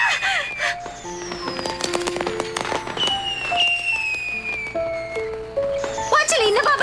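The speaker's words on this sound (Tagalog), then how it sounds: "Fireworks sa ganitong oras?" Fireworks go off in quick succession, with shrill whistles sliding up and down over scattered crackling pops and bangs, steady and moderately loud throughout.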